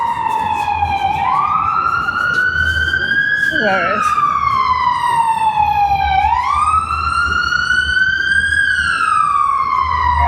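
A loud wailing police car siren sweeps up and down continuously, close by over Chicago road traffic, with a brief spoken remark partway through.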